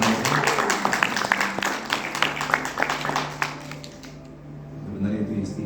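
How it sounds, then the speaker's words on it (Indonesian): A congregation at a church wedding blessing breaks into scattered, uneven clapping that fills the room for several seconds, then fades to quiet with light background voices. "Dengan tepuk tangan dong."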